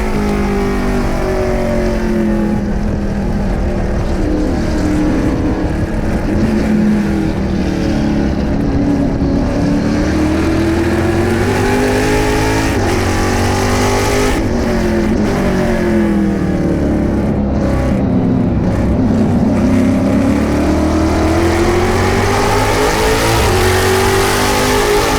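TA2 series race cars roar around an oval at World Wide Technology Raceway, a continuous loud engine drone with repeated pitch sweeps as cars pass and recede, no voices audible.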